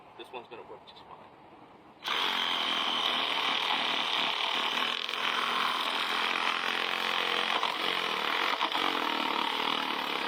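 A power tool cuts into a glued-shut PVC pipe, starting abruptly after about two seconds of quieter handling and voices, then running as a loud, steady, rasping whine to the end.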